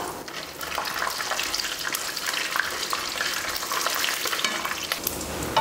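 Chana dal, urad dal, peanuts and dried red chili fry in hot oil with a dense, steady sizzle and crackle, loud and close, joined by faint stirring throughout, with no voices.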